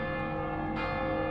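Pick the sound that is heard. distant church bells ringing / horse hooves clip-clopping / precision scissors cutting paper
distant church bells ringing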